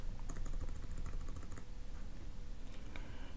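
A computer keyboard typed at a steady quick pace, a dense run of close, crisp key clicks that pauses briefly and then resumes with a few final presses, with no voices.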